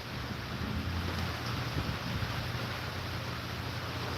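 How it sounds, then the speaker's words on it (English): A compressor at an outdoor barbecue spot kicks on during a heavy rainstorm, giving a steady low rumbling drone mixed with rain and wind noise, constant throughout. "I thought that was thunder. It was a compressor kicking on."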